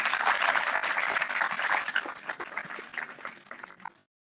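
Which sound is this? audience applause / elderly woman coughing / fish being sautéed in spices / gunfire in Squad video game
audience applause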